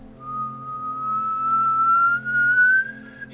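A pot on the stove whistles as it boils, one steady, clear whistle that slowly rises in pitch over about three seconds above a low hum, cutting off abruptly.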